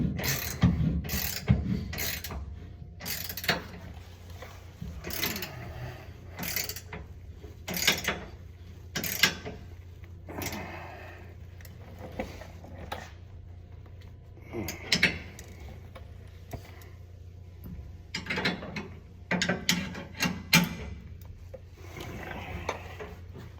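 A ratchet tightens the trailer hitch receiver bolts on a 2013 Ford F-150 XL, with repeated bursts of clicking and occasional metallic knocks over a steady low background.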